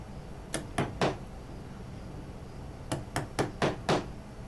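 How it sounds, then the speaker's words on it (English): A chisel is struck with a mallet to deepen a knife line in walnut for dovetails, giving two sharp groups of close, crisp knocks, three then five, over quiet room tone. "I'll come back with a wider chisel and just make my knife line a little bit deeper"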